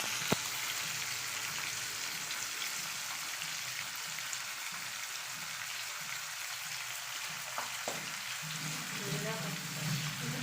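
Several fish frying in hot oil, cooked late at night at home; a steady, dense sizzle runs throughout with occasional louder crackles and pops, fairly close and continuous.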